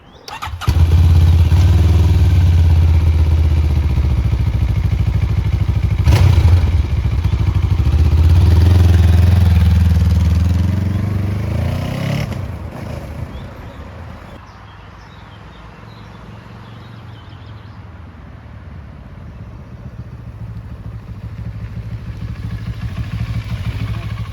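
A 2024 Benelli 702 X motorcycle starts and idles with a loud, close engine rumble, revs a couple of times, then drops to a quieter, steadier running note as it moves off.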